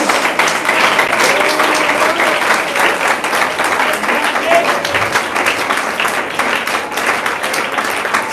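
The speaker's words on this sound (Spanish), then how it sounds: "Dale ese aplauso a Jesús." Loud, sustained applause fills a hall during a Spanish-language religious gathering, dense and even throughout with crowd noise and some voices mixed in.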